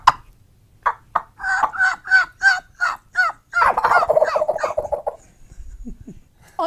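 People vocally imitate a wild turkey's gobble, a run of about eight sharp, rattling gobbles followed by a longer warbling trill, loud and close with no other talk.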